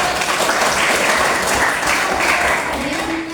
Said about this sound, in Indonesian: Tepuk tangan dulu buat